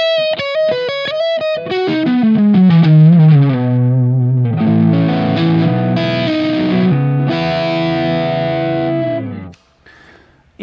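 Distorted electric guitar plays a lead line with effects, quick descending notes giving way to sustained, chorused tones that ring out loudly before cutting off near the end.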